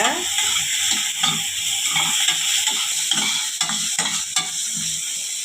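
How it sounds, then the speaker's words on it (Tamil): A small finely chopped onion sautés in a pan with a continuous sizzle, while a spatula scrapes and stirs in repeated strokes close by. "அதில் ஒரு சின்ன சைஸ் வெங்காயம் பொடியாக கட் பண்ணிவிட்டு சேர்த்துக்கோங்க. வெங்காயம் லைட்டாக வதக்கி விட்டுக்கோங்க."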